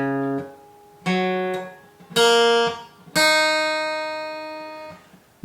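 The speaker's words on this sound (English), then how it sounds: "you're going to have to tune your guitar down 1 semitone so that it should sound like this." Guitar tuned down one semitone for a song, strummed chords ringing out in four separate hits, each struck clearly and left to decay, close and full with no talking.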